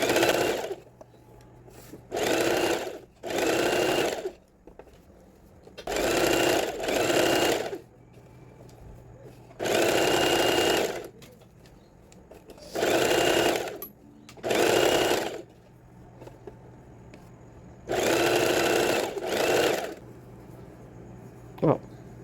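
A sewing machine stitches lace onto a cropped bra, running in about nine short bursts of a second or so each, separated by brief pauses, close and clear.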